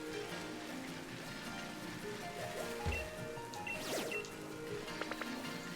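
Rain falls in a Pokémon video game as a steady, dense hiss of soft patter spread evenly through the scene, with faint game tones and a brief thump partway through.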